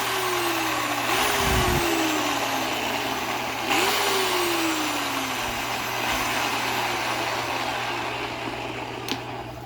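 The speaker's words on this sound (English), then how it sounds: "And then we are ready to pull tension on our winch here" An electric winch whines in rising pulls as it takes up tension on straps hooked to a non-starting truck, with short bursts between steady motor drone and a few knocks, close and without talk.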